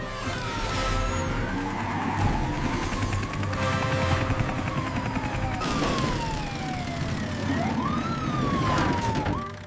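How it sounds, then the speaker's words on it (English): A wailing emergency siren on a rescue vehicle heading to a construction site rises and falls over rumbling engine noise and busy background sounds, loud and close, with no speech. "Sirens on!"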